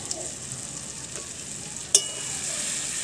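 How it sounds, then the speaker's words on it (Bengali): Ginger-garlic paste and Kashmiri chili powder sauté quietly in a pan for bhetki fish curry, with a soft continuous sizzle, light stirring scrapes and one sharp utensil clink. "দিয়ে আবারও খুব ভালোভাবে এটা কষাতে হবে যতক্ষণ না আদা রসুনের কাঁচা গন্ধটা যাচ্ছে।"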